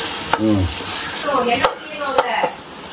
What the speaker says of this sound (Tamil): இந்த பச்சை மிளகா வெங்காயம் எல்லாத்தையும் போட்டு நம்ம தாளிச்சிட்டு இருக்கோம்